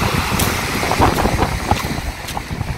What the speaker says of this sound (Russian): а волны такие классные